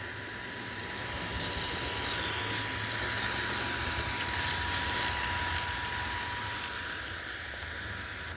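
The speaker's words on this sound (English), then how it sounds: "Well, that was a quick takeoff." An airplane taking off at an airport, with a loud, steady engine roar and a faint whine that swells slightly through the middle and then eases, with no one speaking.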